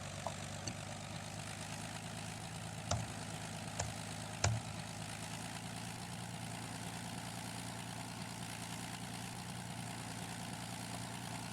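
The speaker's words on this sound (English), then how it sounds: "we're going to fly the Fokker DR-1 from the 1910s" Steady droning engine of a Fokker Dr.1 triplane from the 1910s in a flight game, a constant propeller hum with a few faint clicks over it.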